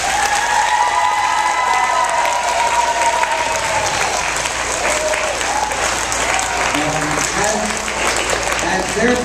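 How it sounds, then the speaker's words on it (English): Sustained applause and scattered cheering from a crowd at a school pep rally honoring teachers, a dense, steady clapping texture with a voice faintly audible early on. "Let's give them a round of applause."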